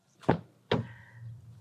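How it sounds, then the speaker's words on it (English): Door of a 2025 Jaecoo EJ-6 EV electric SUV closing: a first dull thump, then a second heavier thunk as the soft-close pulls it shut, followed by a short low mechanical hum, close by with no talking. "when you close it, if you miss it the first time, soft close."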